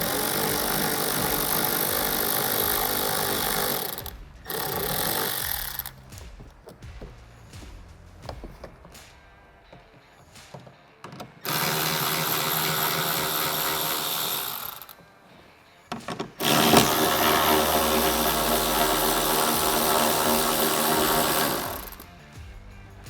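Power tool running in long bursts while removing 7mm screws and a 10mm nut from the fender liner of a C8 Corvette Stingray, a steady mechanical whirr that starts and stops several times, loud and close with no talking.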